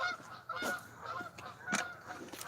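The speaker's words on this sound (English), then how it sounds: "There goes the geese." Several geese honking at a moderate distance, a few overlapping calls in quick succession against faint outdoor background.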